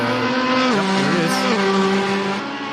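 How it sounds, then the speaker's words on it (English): A red Ferrari race car in the Assetto Corsa racing game, its engine droning loud and close with a tonal whine that drops in pitch as it shifts and changes revs, plus a brief tire squeal. "Over the hill, we see the red Ferrari coming into the frame"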